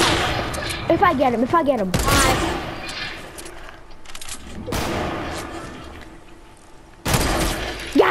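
A hunting rifle fires in a video game: three loud, sharp shots spaced a few seconds apart, each with a short ringing tail. Excited players talk between the shots.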